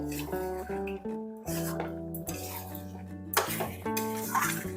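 Metal lid lifted off a pot, then a spoon stirring desi chicken kosha cooked with chui jhal in a pan, with repeated scraping and clattering against the pan over a steady background tone.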